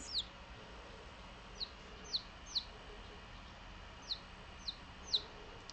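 Tiny Japanese bantam chicks give faint, high, brief peeps scattered irregularly over a quiet background, about eight short calls in all.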